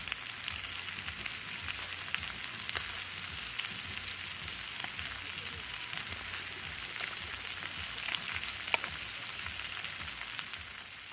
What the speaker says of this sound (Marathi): आता मच्छी तळून घेतली